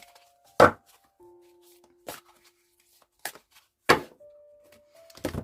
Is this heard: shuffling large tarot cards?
yes